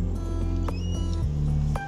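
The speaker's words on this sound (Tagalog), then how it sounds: "Takot ka sa pusa." A cat meowing at a park in Jeddah, Saudi Arabia, a few short cries heard close over steady low background noise and droning.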